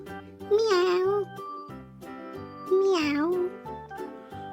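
A child-like voice imitates a cat with two drawn-out, rising and falling meows, each about a second long, over soft jingly music.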